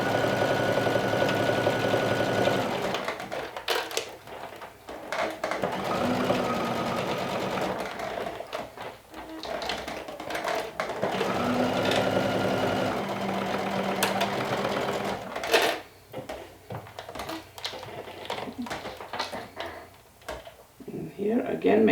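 Sewing machine stitching the cuffs of a lumberjack shirt through two fabric layers, running in bursts of steady mechanical whirring with brief pauses and handling clunks, a person talking over it.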